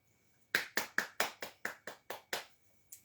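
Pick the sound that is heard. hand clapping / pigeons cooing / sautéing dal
hand clapping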